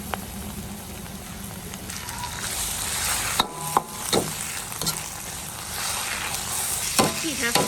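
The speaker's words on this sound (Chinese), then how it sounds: "牛肉下锅炒，" Beef stir-fried in a wok over oil with ginger, garlic, chili peppers and fermented black beans, a steady broad sizzle with scraping stirs, bursts of clatter around the middle, and voices talking over the cooking.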